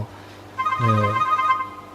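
A telephone rings with a steady electronic tone that swells in about halfway through, over a faint background hum on a Thai FM radio broadcast from a temple.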